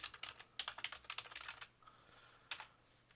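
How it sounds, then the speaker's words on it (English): Keys tapped on a computer keyboard while entering an email address during a Linux software setup: light, rapid clicking in short bursts with a brief pause near the end, fairly quiet and alone. "I'm just typing in"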